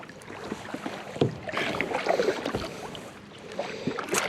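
Kayak paddling on Herrington Lake, Kentucky: repeated close splashes and drips as the blades dip and pull through the water, with light wind noise in the background.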